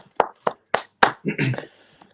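Hand claps for Josh during a live chat show: four sharp, evenly spaced claps, then a voice speaking briefly right after.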